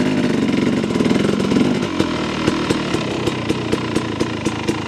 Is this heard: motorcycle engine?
yes